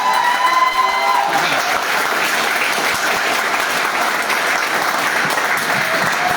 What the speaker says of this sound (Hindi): जिनके लिए एक ताली मांगूंगा।